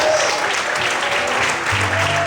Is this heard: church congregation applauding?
yes